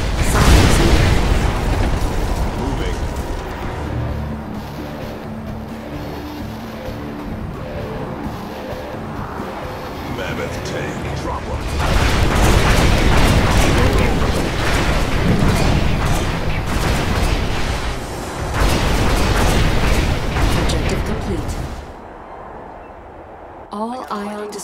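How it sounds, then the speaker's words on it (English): In a video game battle, an ion disruption field generator is destroyed amid a long run of loud booming explosions and rumbling blasts. The blasts surge in two heavy waves, and speech is heard alongside them. "One more ion disruption field generator is destroyed."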